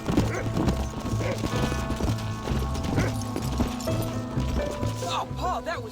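Horse hooves clip-clopping at a steady galloping rhythm in the Red Dead Redemption video game, close and continuous, with a brief whinny near the end and a voice speaking over it.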